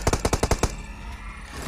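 A rapid burst of about eight automatic gunshots in a mobile shooter video game, loud and evenly spaced, then a fading tail of lower game noise with no talking.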